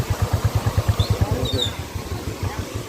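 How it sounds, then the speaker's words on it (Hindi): Motorbike riding downhill from Sonprayag on a mountain road in the Kedarnath area, its engine throbbing in a steady, fast low-pitched pulse, close and fairly loud with no talk. "हम लोग सोनप्रयाग से चल दिए हैं बाइक पे।"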